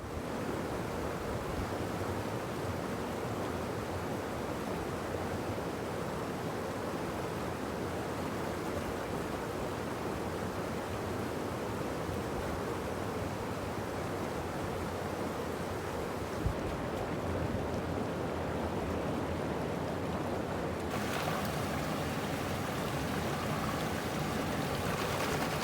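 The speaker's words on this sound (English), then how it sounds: "So we'll go pan it out and see how we did." A gold pan full of river-bank dirt is swirled in river water, giving a continuous rushing, sloshing wash of water with no talking.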